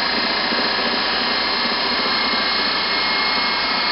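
A DC motor running at 180 volts gives a loud, constant, unbroken whirring hum throughout, close up and alone.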